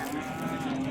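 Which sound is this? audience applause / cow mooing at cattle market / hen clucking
cow mooing at cattle market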